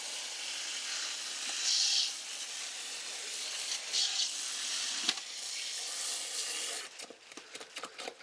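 A tool stirs up loose garden bed soil mixed with surplus bone meal in an outdoor plot, making a steady, close rustling scrape that breaks into choppier crunches near the end.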